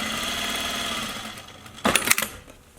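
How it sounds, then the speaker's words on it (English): A sewing machine stitching along a seam of a fabric face mask, with a steady close whirring hum that stops, followed by a few quick clicks and clatters from the machine, with no voices. "Stitching along the seam over here to have the seam open and stay flat"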